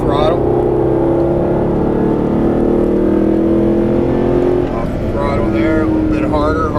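Engine of a Mercedes SLS AMG pulling on throttle, a loud rising tonal drone with harmonics climbing and then easing, while someone talks over it in bursts.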